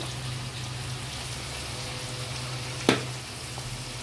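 Masala of cumin-garlic paste, coriander powder, chili and turmeric frying in a pan, a steady soft sizzle with one sharp stir or scrape near the end.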